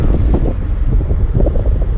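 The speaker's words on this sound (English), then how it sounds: "Sorry about the wind, guys. Hopefully it's not too bad." Heavy wind buffets an outdoor microphone beside a cornfield during harvest, a continuous low rumbling roar with gusting swells and no speech over it.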